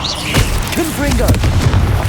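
A Confringo blasting spell explodes in the Hogwarts Legacy video game, a dense, booming rumble that fills the short moment while a voice talks over it.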